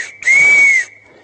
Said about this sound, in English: the conductor stands up, he blows his whistle